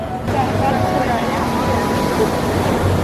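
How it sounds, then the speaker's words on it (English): Ocean waves roar onto the shore beside El Farallon, a cliffside restaurant at the Waldorf Astoria in Cabo San Lucas, a constant, heavy, rumbling wash that is loud and close throughout, with faint voices beneath. "You guys hear the roaring of the waves while waiting for our table."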